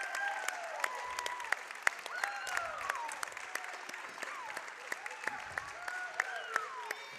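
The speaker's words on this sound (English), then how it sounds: "Great round of applause." Crowd applause fills a high school gym during a girls' basketball game, steady clapping with sharp squeaks of sneakers on the hardwood cutting through.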